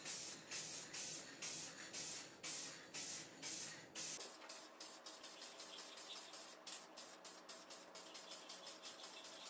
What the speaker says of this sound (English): Then I got some spray lacquer and sprayed 4 or 5 coats to protect the wood